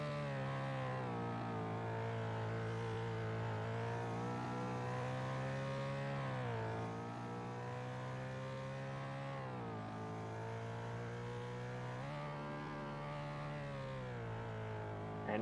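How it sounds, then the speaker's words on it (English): IndyCar race car engines in a St. Petersburg round of a racing video game, a loud, steady high-pitched whine that rises and falls with gear changes and revving throughout, several cars close together, no talking. "And from the sounds of the engines, it seems like JTS is actually using manual gears."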